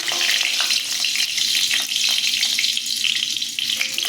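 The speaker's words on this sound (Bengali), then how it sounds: "সর্ষের তেল দিয়ে দিচ্ছি, একটা কাঁচা লঙ্কা ফোড়নে দিলাম" Green chili crackles as it is tempered in hot mustard oil for a vegetarian pumpkin-stem curry, a steady loud sizzle with bright spitting pops throughout, no talking.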